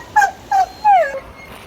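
Six-week-old Dogo puppy gives three short, high whimpering yips close by, each rising briefly then trailing off, with quiet room noise between.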